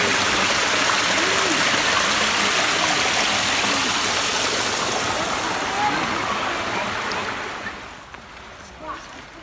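A salmon river flowing through Kobayashi Park gives a loud, steady rushing babble close by that eases toward the end, leaving a quieter background.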